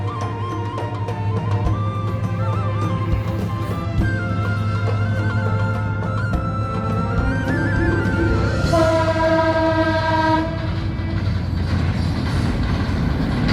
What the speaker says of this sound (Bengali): ট্রেন আসছে, ট্রেন কিন্তু হর্ন দিছে।